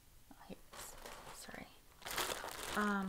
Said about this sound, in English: sorry about the crinkling.